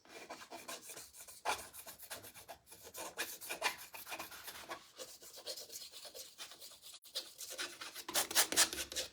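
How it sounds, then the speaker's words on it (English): Paint being scraped off a surface with a palette knife: continuous gritty rasping strokes with short pauses, close and moderately loud, growing busier toward the end, with no talking. "I'm gonna put a little bit on there and then I'm gonna scrape some of it off."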